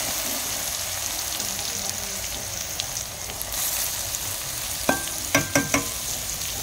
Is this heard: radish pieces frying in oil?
yes